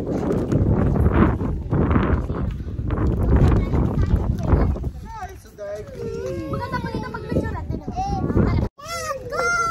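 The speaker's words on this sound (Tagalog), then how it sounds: "Ang lakas ng hangin" Gusty wind buffeting the microphone with loud rumbling bursts, followed by children's chatter and voices talking nearby.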